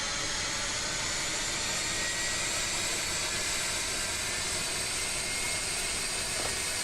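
Steady, hissing jet roar of a custom Warthog-style aircraft taking off in Kerbal Space Program, continuous and fairly loud with no speech.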